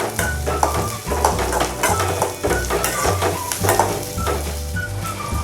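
Shallots, garlic and curry leaves fry in hot oil for a Tamil fish curry, a steady close sizzle with stirring scrapes and occasional utensil clinks against the pan.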